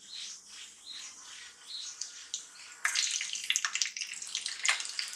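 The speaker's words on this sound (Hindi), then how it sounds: "अब इसमें डाल देंगे हम mustard seed and cumin seed यानी कि राई और जीरा" Mustard seeds and cumin seeds drop into hot oil while chana masala is being cooked, setting off a loud, busy crackling sizzle that jumps up sharply partway through and keeps popping close by with no one talking.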